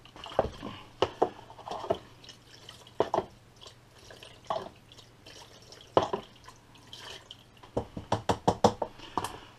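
Water rinsing gunk off a Metropolitan Vickers / GEC electrical unit switch, heard as close, irregular splashes and drips that arrive in uneven clusters over a low steady hum.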